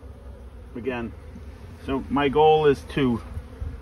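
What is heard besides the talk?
honey bees buzzing during hive inspection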